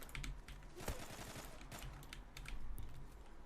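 Pistol fire in the online shooter game Zula: a quick run of sharp, fairly quiet gunshot cracks with one stronger shot near the start and a tight burst later, with no voices.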